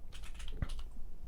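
Computer keyboard typing for about a second and a half, light rapid key clicks with one firmer keystroke near the middle, faint and close with low background hum.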